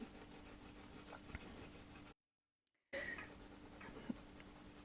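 Water-soluble wax pastel is rubbed lightly across paper in a soft, steady scratchy rasp, close and faint, with a brief silent gap midway before the rubbing resumes.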